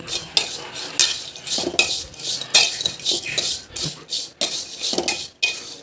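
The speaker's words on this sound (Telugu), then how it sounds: "రొయ్యలు అయితే ఫ్రై చేసుకోవాలి ఆయిల్ లేకుండా" Dried shrimp dry-fry in a pan without oil for a cauliflower curry, stirred with a metal spatula that scrapes and clanks against the pan in a busy, close, irregular rhythm.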